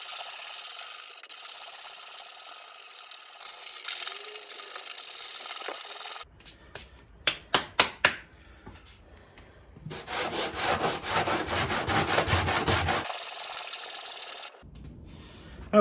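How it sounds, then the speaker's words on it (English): Body filler on a Jeep Patriot panel being sanded flat by hand with coarse 40 grit sandpaper: steady close rasping strokes, with a run of sharp separate scrapes midway and a longer continuous stretch after. "we're just going to take this down a bit with our 40 grit again, our coarse sandpaper"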